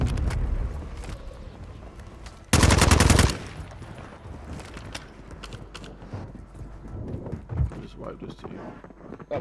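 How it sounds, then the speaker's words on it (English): Bursts of automatic gunfire from an enemy team in the Warzone battle royale video game, one loud sustained volley, then scattered lighter shots and game noise while a player talks over it. "Look at them shooting on me."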